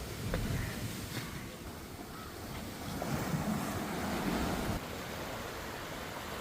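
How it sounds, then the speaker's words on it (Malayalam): Sea surf washes steadily on a beach, a broad continuous rush with gentle swells in loudness, mixed with wind buffeting the microphone. "ഒന്നുകൂടി ഒന്ന് കടൽ കാണാൻ പോവാം"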